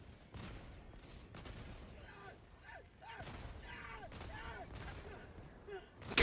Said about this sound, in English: I forgot how good the fucking autocannon felt